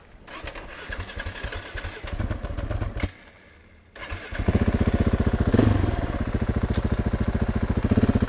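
An off-road motorcycle engine revs in uneven bursts, dips briefly to near quiet, then pounds out a loud, steady, rhythmic thumping as the bike is ridden hard over rough ground.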